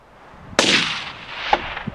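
A single rifle shot is fired from a prone position on a mountain hunt for aoudad (Barbary sheep). It is one loud, sharp crack with a rolling echo that fades, followed by a few faint thuds.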